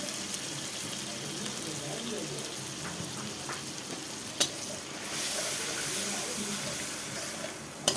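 Spice masala sautéing in a pan after water was added for a Bengali bitter gourd and potato dish: a steady soft sizzle with faint scraping stirs and a couple of sharp clinks, with no voices.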